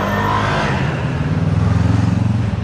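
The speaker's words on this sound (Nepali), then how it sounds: "फेरि पछाडि स्कुटर ग्याङ रहेछ" A group of scooters riding through city traffic in Rijeka, engines loud and close, a buzzing drone that throbs more steadily as they pull along.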